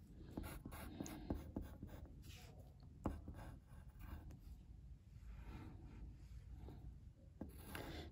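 A pencil sketches a cartoon donkey on paper, giving a close, steady scratchy rubbing with repeated short strokes that run nearly throughout.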